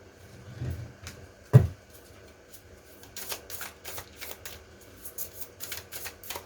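Tarot cards riffle and tap in a quiet room: a sharp card snap, then a run of quick soft flicks and shuffles, close and light with no voice.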